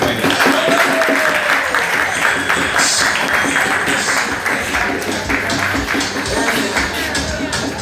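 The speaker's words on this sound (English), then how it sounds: "let's clap for them" A live audience applauds the champions at a finals event, with dense, sustained clapping and crowd noise filling the space steadily throughout.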